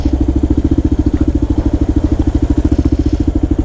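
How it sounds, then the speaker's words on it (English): A Kawasaki KLR motorcycle engine thumps close and loud in a steady, rapid single-cylinder pulse while moving through New York traffic, with no voices. "this KLR, when it's lane splitting, is a pretty formidable machine"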